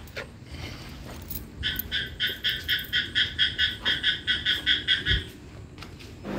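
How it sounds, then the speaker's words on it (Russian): A frog croaks at night, a loud rapid series of about fifteen regular pulsed croaks in one steady burst, standing out clearly against quiet night background. "слышно, как кричит, как квакает лягушка"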